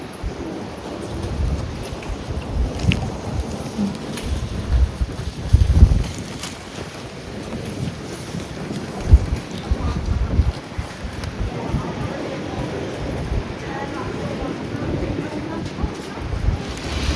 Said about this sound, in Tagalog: Grabe ang lakas talaga ng ulan, lakas po ng hangin.